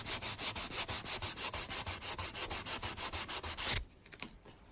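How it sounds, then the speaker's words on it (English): Rapid back-and-forth strokes of fresh 400 grit sandpaper polishing a flat wooden surface, a steady even rhythm of about five rubs per second, close and loud, stopping abruptly near the end. "I'm getting good results with this fresh piece of 400 grit, because that will polish it"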